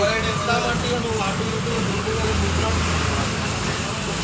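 Road traffic rumbles around a city bus as it pulls in and halts at a bus stop, a constant low engine drone with a voice speaking over it.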